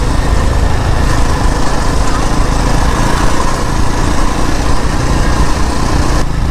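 A motorbike engine drones steadily and loudly at close range, with constant vibration, while riding a broken, potholed road through a shaded, tree-lined village area.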